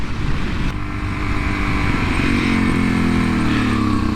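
A Suzuki DRZ 400SM motorcycle engine roars loud and close while accelerating at high road speed, with wind rush and a steady rising drone and no talking.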